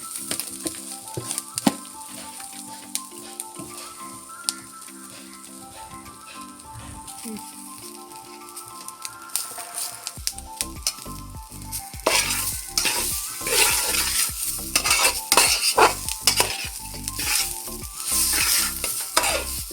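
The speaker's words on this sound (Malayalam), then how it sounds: "അപ്പം നമുക്ക് വറുക്കാനായിട്ട് തുടങ്ങാം. നമ്മുടെ തേങ്ങ ആദ്യം ഇട്ട് കൊടുക്കുകയാണ്." Grated coconut dry-roasting in a pan without oil for Kerala chammanthi podi, stirred with steady scraping strokes; a soft crackling sizzle grows denser and louder halfway through, over a faint melodic background.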